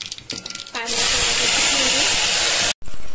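A loud sudden hiss as mustard seeds and cumin hit hot oil for tempering, a sharp close sizzle that holds steady after a brief voice, cut off momentarily then resuming.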